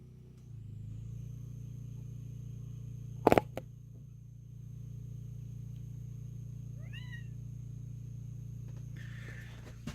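A house cat gives a short, faint chirping meow in a home kitchen while a slow-cooker beef stew is being made. A sharp clatter comes first, and a steady low hum runs underneath throughout.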